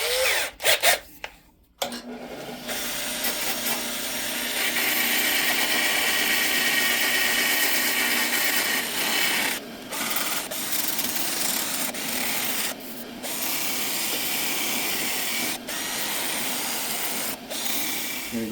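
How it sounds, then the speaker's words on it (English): A drill spins 120-grit sandpaper against a yew wood yo-yo, a loud, sustained whirring rub that starts after a brief pause and runs on with a few short breaks. "we're gonna use the 120 from that kit in my drill"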